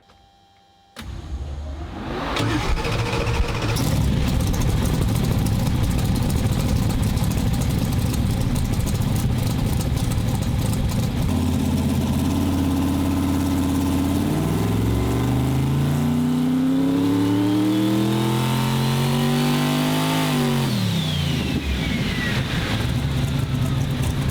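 Race car engine of about 800 horsepower running on a dyno, starting up loud and holding a hard roar, then rising through rev sweeps that climb and fall near the end.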